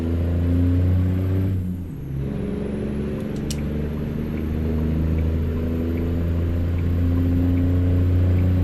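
A modded International LT truck engine in American Truck Simulator drones with a deep, steady low rumble, briefly dipping as the revs drop, then pulling again with sustained engine tone and a few faint high clicks.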